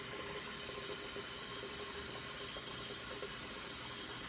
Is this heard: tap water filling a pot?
yes